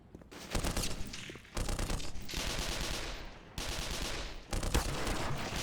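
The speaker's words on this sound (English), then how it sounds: "Did the turret shoot me or shoot them?" Bursts of automated turret gunfire in the video game Black Mesa, with long sustained volleys of rapid shots separated by short pauses, loud and close throughout.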